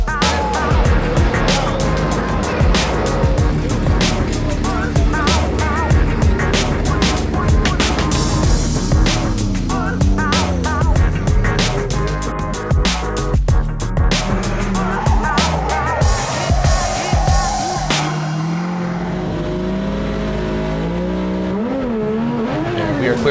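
Drift cars at a Formula Drift event in Irwindale, a purple BMW and a hatchback, roar and rev loudly as engines climb and fall in pitch with tire squeal, while an announcer talks over the noise.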